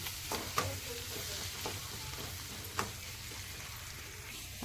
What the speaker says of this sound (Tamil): இதுக்கப்புறம் நம்ம வதக்கிட்டு இருக்கோம் இல்லையா வெங்காயம், அந்த வெங்காயம் லைட்டாக கலர் மாறும்.